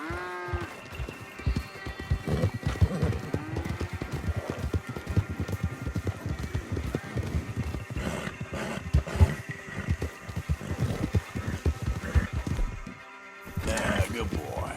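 Horse in Red Dead Redemption 2 clip-clopping in a quick gallop, with brief neighs and someone talking to it, amid constant game sounds and a louder burst near the end.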